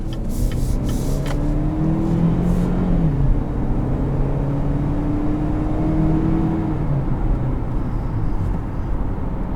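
A 2020 Chevrolet Equinox Premier with a four-cylinder engine accelerates from inside the cabin, a steady low engine drone rising in pitch in two pulls under road noise, with no talking.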